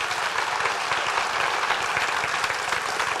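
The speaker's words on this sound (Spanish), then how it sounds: "Y darle un aplauso al Señor." A church congregation applauds steadily and evenly, a dense wash of many hands clapping at moderate volume throughout with no clear break.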